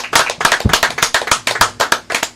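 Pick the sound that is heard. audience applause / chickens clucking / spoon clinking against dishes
audience applause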